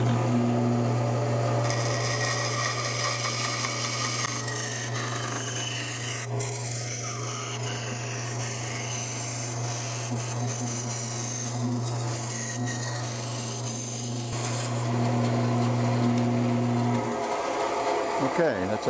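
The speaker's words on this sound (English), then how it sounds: "Now I'm on my 14-inch woodworking bandsaw to cut out this circle." A 14-inch woodworking bandsaw cuts out a circle, a loud continuous motor hum under a raspy, rubbing blade-on-wood sound that holds steady for most of the run before winding down near the end.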